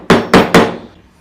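Three sharp hammer taps on wood marking a drilling point for a homemade wooden bench vise, evenly spaced, close and loud, each ringing briefly before fading.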